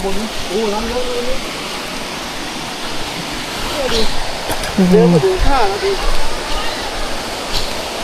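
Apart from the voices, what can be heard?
Khlong Kratha waterfall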